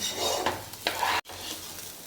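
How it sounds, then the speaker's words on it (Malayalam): Ghee rice sizzles in a pan over a high flame while it is stirred. A close, steady frying hiss carries scraping stir strokes, then cuts off for a split second before the sizzle resumes, with no talking. "ഇത് അടി പിടിക്കാതെ നന്നായിട്ട് നമ്മൾ ഇളക്കി കൊടുക്കണം"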